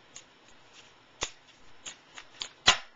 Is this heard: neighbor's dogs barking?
no